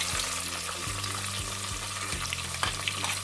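Chopped tomatoes frying in hot oil in a pan for a potato curry, a steady crackling sizzle with repeated soft thumps of stirring, close and fairly quiet, no talk.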